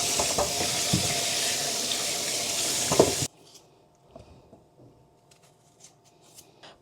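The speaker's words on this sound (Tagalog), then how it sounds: "huhugasan muna natin itong mga patatas, babalatan, and then hiwa-hiwain" Water runs from a tap over potatoes being washed, a close, noisy splashing rush with a few clunks, then it shuts off, leaving only faint kitchen handling sounds.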